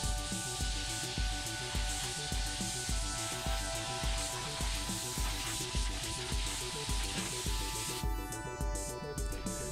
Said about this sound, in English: I'm just spraying inside that now with black spray